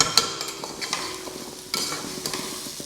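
Masala paste for prawn pulao frying in a pan over a medium flame, a continuous crackling sizzle with light clinks and scrapes of a spoon stirring, heard close up with no speech.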